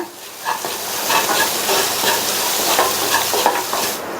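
Potato stuffing seasoned with salt and turmeric is stirred in a hot pan, giving close scraping strokes over a continuous frying sizzle and hiss.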